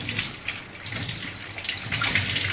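Water is poured off freshly washed wheat through a kitchen strainer, a close, splashy trickle and gush that continues steadily for a couple of seconds.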